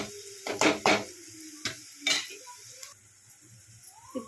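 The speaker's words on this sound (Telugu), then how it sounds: "ఇప్పుడు ఈ తాలింపుని మనం పప్పులోకి వేసేసుకుందాం" Hot tempering with curry leaves and coriander poured from a small pan into tomato dal, a few metallic clanks and scrapes, then a soft hiss and sizzle as it hits, fading to quiet bubbling.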